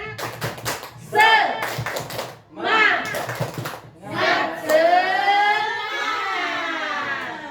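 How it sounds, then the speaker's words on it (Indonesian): A group of teachers doing a rhythmic spirit clap: bursts of patterned hand claps in quick sequences alternating with chanted voices, close and lively in an indoor setting. "Tepuk semangat."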